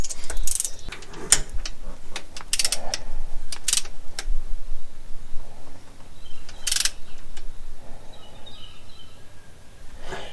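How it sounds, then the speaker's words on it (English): A torque wrench tightens bolts on a workbench project, giving a series of close, sharp ratcheting clicks in irregular bursts separated by quieter pauses. "I think this torque wrench is messing up."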